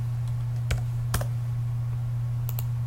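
A few crisp keystrokes tap out a value on a computer keyboard, about three isolated clicks and a quick double tap near the end, faint against a steady electrical hum.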